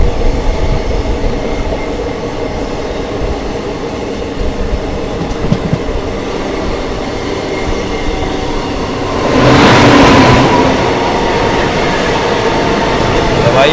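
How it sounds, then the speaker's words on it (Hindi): The Howrah Rajdhani express rolls slowly past on an Indian railway line, a steady rumble and clatter of carriages that swells louder toward the end, with someone talking over it. "भाई ये राजधानी के साथ में क्रॉसिंग तो हो रही है, लेकिन ये राजधानी थोड़ी स्लो क्रॉसिंग हो रही है।"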